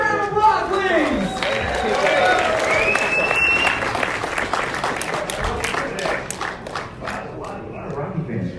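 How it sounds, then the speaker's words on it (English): Audience at a Rhode Island Comic Con panel for Rocky fans applauding and cheering in a crowded hall, steady dense clapping with voices mixed in that tapers slightly toward the end. "your moderator, Kevin Lyle, give him a warm round of applause, please!"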